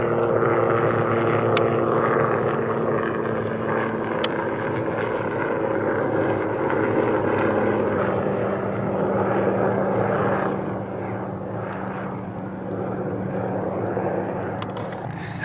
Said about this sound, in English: The black helicopter.